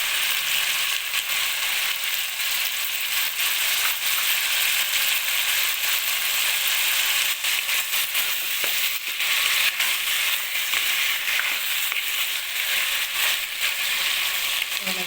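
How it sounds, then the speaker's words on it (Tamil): Tomatoes sautéing in a pan with salt for a karunaikizhangu masiyal, a steady dense sizzle running the whole time with faint stirring scrapes, close and fairly loud, no talking. "தக்காளி வந்து நல்லா மசிஞ்சு வரணும், அந்தளவுக்கு வதங்கட்டும்"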